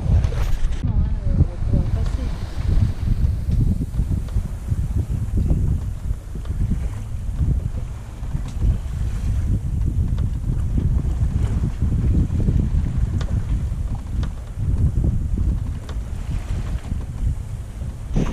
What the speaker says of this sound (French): On s'approche du Cap Créous, on est toujours presque en vent arrière.